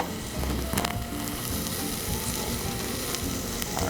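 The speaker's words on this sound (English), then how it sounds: "Put some tomato paste in there." Tomato paste hits browned flour in a hot pan, giving a loud, steady sizzle and frying crackle that runs unbroken throughout, with a few light stirring scrapes and no talk.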